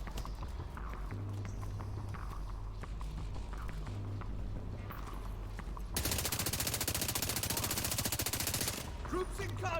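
Gunfire in the shooter The Division 2, with scattered single shots and movement giving way to a long, loud, rapid automatic burst near the end.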